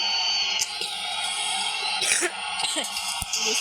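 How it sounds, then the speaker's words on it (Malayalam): A short throat-clearing cough stands out against a busy background of hum and distant football-game commentary from an eFootball match. "ചുമയാണ്."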